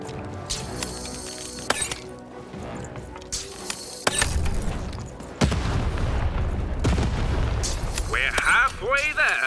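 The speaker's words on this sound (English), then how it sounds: "Shoot the button to fire the cannon." Cannon blasts in the video game Lost in Random, several heavy booms with rumbling tails amid clanking mechanisms and game music, with a voice speaking over parts.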